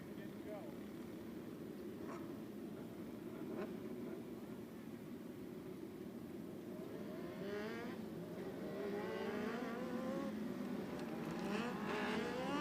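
Race cars idle and rumble as they line up on the track at Clyde Martin Memorial Speedway before the 600 feature, with a steady engine drone and occasional revs that swell toward the end.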